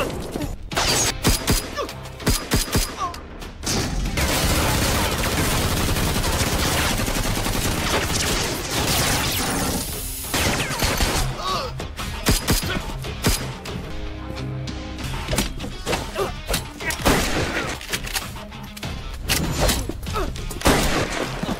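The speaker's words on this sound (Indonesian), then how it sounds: "Mendengar adanya suara tembakan" Gunfire in an action film, dense bursts of shots and rapid machine-gun volleys crackling almost continuously at close range, with brief pauses, smashing impacts and a few muffled voices mixed in.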